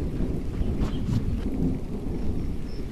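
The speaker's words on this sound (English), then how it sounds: "we have that storm coming" Thunder rumbles with steady rain during an approaching storm, a continuous loud low roar with a few louder rolls across the stretch.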